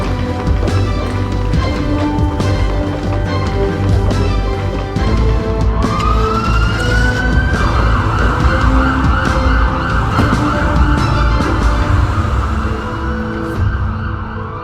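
An emergency health team's ambulance siren rises and begins wailing in steady repeating sweeps midway through, heard over dense, loud traffic and engine rumble that runs throughout.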